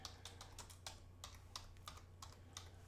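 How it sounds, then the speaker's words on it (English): Fingers typing on a computer keyboard, a quiet, steady run of close, crisp key clicks with a low hum beneath, no speech. "And I'm going to type in."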